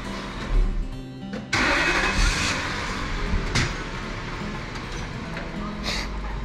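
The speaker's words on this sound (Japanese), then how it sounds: "これ一回エンジン切んないといけないな" A first-generation Toyota Celsior with stock air suspension: the engine cranks and catches, then runs with a rumbling idle and a couple of brief revs, close by.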